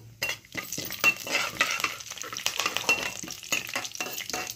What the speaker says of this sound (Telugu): ఇప్పుడు నేను జీలకర్ర వేసుకుంటున్నాను